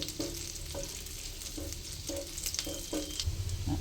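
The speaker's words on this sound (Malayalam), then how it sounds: "ഇതിലേക്ക് ഞാൻ വെളുത്തുള്ളി അരിഞ്ഞത് ഇട്ട് കൊടുക്കണം. അതൊന്ന് ചൂടാവട്ടെ." Chopped garlic fries in hot oil for chicken soup, a close, steady crackling sizzle with rhythmic spatula scrapes recurring about every half second.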